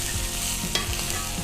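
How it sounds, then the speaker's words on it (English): Pork loin searing in a smoking-hot cast iron pan, a steady close sizzle with a brief clatter as the meat is moved, no talking. "We're gonna add our pork loin to that."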